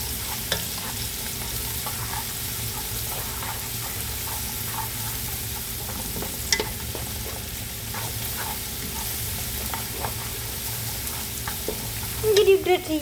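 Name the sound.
onions and garlic frying in a pan for macaroni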